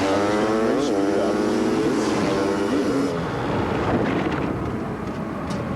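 Robbie Knievel's motorcycle on a practice run at the Grand Canyon roars loudly and continuously, its engine note rising and falling in pitch as it revs, with crowd noise and commentary beneath it.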